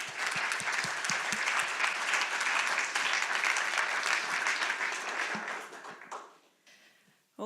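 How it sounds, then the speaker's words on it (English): A networking event audience gives a round of applause: dense, steady clapping from a roomful of people that holds for about six seconds, then thins out and fades to near silence. "Let's give him a round of applause."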